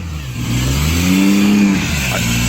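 A Lexus GS300 engine, not run for a long time, runs at a rough idle, its low rumble rising and falling as the revs surge unevenly, steady and close.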